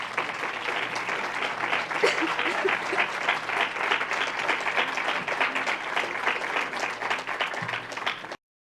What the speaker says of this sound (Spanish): el profesor doctor Carlos Daza Gómez, para quien pido un fuerte aplauso.